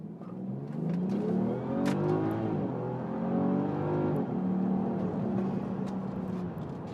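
A tuned BMW 535i F10 with the N55 engine launches from a dead stop in sport mode, its exhaust rising through a long pull, an upshift, then a second strong climb, heard steadily from inside the cabin.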